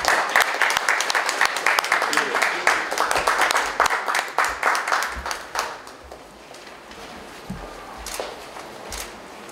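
A crowd at a craft exhibition opening ceremony claps loudly and densely. After about six seconds the applause thins to a few scattered claps and footsteps.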